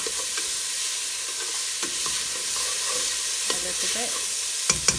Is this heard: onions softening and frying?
yes